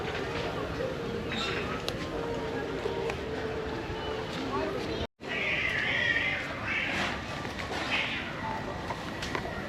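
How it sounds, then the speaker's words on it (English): Cats fighting outdoors beside a sacred fish pond in Mesopotamia, drawn-out yowling caterwauls rising and falling, moderately distant over a constant background hiss, with a brief dropout midway. "I hear a cat fight."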